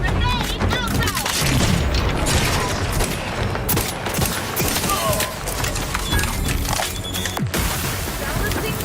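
A grenade explodes during a firefight in The Outer Worlds 2, one loud boom among constant gunfire and battle noise, with shouted combat voices over it.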